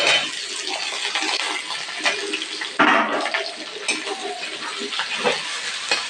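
Boiled potato frying with onions in a pan gives off a steady, close sizzle with bursts of louder crackle and stirring scrapes throughout.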